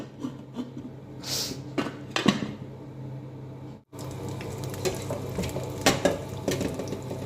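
Marinated chicken pieces for chicken fried rice drop one by one into hot oil, giving a steady close sizzle with stirring and scraping, a brief break near the middle, then louder continuous frying.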